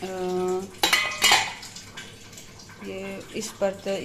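Metal cooking pot called a taula, used in hill kitchens, clanks and rattles in a few sharp knocks while onions are being cut and a kadhai heats on the stove, with speech around it.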